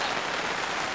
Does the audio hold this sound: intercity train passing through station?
no